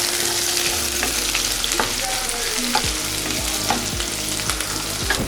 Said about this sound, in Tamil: சின்ன வெங்காயம் போட்டுக்கலாம். பூண்டு உள்ளே போட்டுறேன். நல்லா வதக்கிக்கலாம்.